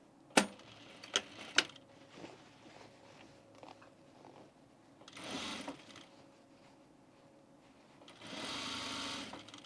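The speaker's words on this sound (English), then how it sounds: "So I'm sewing this out my full seam." A sewing machine stitches a full seam on men's pants in two short runs of rapid, even needle rattling, after a few sharp clicks and taps near the start.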